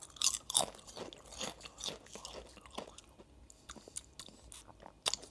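Walkers tomato sauce crisps are chewed up close, with quiet irregular crunches and bites spread through the clip and softer mouth sounds between them, with no talking.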